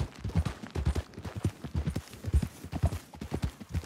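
Horse hooves clip-clop in the video game Red Dead Redemption 2, a quick steady rhythm of close, muffled thuds continuing throughout without talk.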